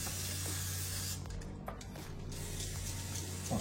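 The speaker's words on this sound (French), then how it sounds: "ça, c'est un spray, l'huile qui fait à l'huile canola" Canola oil cooking spray misted over chicken skewers, a close steady hiss running the whole time with a short break midway, no talking over it.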